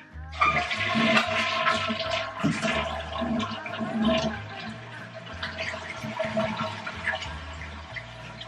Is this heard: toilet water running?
yes